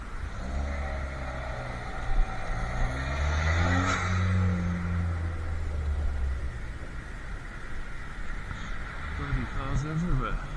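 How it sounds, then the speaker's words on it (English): Cars drive past on a narrow old country road in winter, a steady engine rumble swelling as one passes close and fading off, with a voice speaking over it. "Bloody cars everywhere."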